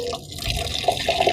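Water poured over soaking rice for an Afghan chicken pulao, a close, steady liquid splash and trickle with a few brief drip-like bursts near the end, no talking.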